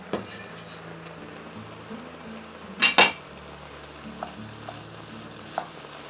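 Lentil and tomato macaroni soup stirred in a pot, with a soft sizzling bed, a sharp metallic clatter of a spoon against the pot partway through, and a few light clinks after.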